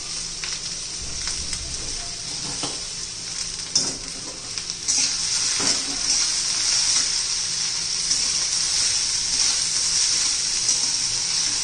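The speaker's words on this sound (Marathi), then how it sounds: "आता तुपामध्ये आपण चांगलं परतून घेणार आहोत, त्याचा कलर चेंज होईपर्यंत." Potato and green chili sauté in hot ghee for sabudana khichdi, giving a continuous close sizzle that grows a little louder halfway through. Occasional stirring clicks sound under it and nobody speaks.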